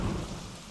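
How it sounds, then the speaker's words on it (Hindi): A rainy, stormy night gives a brief low rumble of thunder over a soft, steady patter of rain, heard fairly quietly and alone. "ऐसी ही बरसाती तूफानी रात थी"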